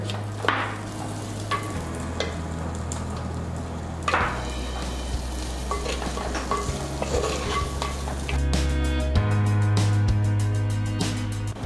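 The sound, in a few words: green chillies sautéing in a pan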